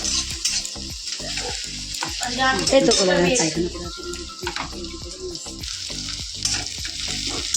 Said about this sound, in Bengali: দেখো পেঁয়াজটা ভাজা হয়ে গেল